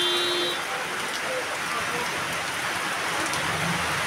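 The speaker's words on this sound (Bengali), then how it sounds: "বৃষ্টি হচ্ছে, বৃষ্টিতে এসে আটকে পড়লাম বাজারে এসে ব্যাংকে।" Steady rain pours down at a market outside a bank, a dense, even hiss that holds for the full few seconds with no breaks, with faint murmuring voices now and then underneath.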